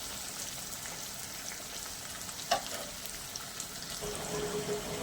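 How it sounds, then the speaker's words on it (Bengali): Onions frying in a pan give a steady crackling sizzle throughout, with one sharp clink partway through and a faint tone entering near the end. "পেঁয়াজগুলোকে একটু ভেজে নেব।"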